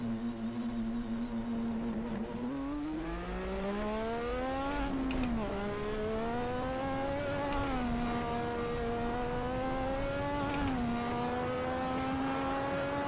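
A race car laps a track in the Assetto Corsa video game, its engine droning steadily and rising in pitch between a few sharp gear changes, with the revs dropping briefly at each shift.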